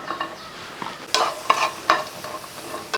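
Small onions, halved, tossed into a hot pan for frying: a few scraping, crackling stirs in quick succession with short bursts of sizzle, close by and fairly loud, without speech.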